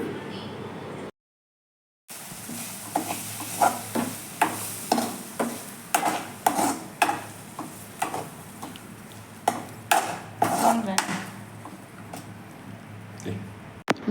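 Slices of raw banana frying in a little oil over medium flame, stirred in a pan with regular scraping and clinking strokes over a soft sizzle, after a brief silent gap.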